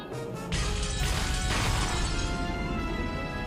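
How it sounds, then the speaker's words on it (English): Loud crashing and smashing effects from the Umineko visual novel game, starting abruptly after a short lead-in and continuing as dense, sustained destructive impacts and crunching for several seconds. "The mansion was filled with the sound of knocking, crushing, smashing, and chewing."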